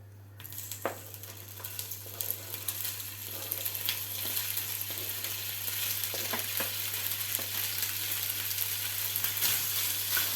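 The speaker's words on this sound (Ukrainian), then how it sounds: "І трошки підсмажимо грибочки" Mushrooms frying in oil in a pan for a cheese and mushroom pie, a steady dense sizzle with small pops and crackles running throughout under a constant low electrical hum, no talking.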